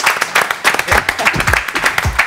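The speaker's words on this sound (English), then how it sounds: "A round of applause." A small audience gives a short round of applause during a casual group conversation, with scattered close claps mixed with voices.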